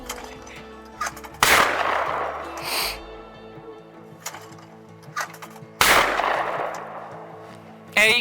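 Two loud, sharp shotgun blasts during an upland bird hunt outdoors, spaced several seconds apart with fading echoes after each, and quieter sounds in between.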